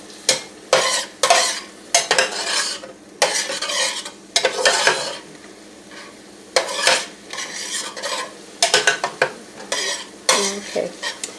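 Jambalaya ingredients fry in a pan while a spoon stirs them, scraping and clattering in irregular bursts over a soft, steady sizzle, close and moderately loud.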